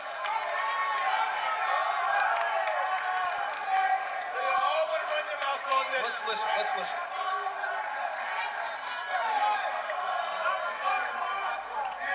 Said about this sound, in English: And the fans going bonkers.